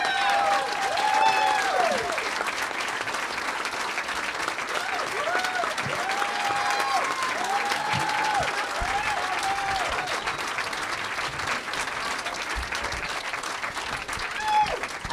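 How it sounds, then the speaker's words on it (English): A large audience at a book talk applauds steadily as two speakers are welcomed onto the stage, the dense clapping holding at full strength for about fifteen seconds with a few whoops and cheers on top. "So, ladies and gentlemen, please join me in welcoming both Katy and Jake"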